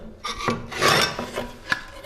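A roofing slate being cut and trimmed on a slater's anvil: rough rasping scrapes and gritty rubbing strokes, close and fairly loud, ending with a sharp knock, with no voices.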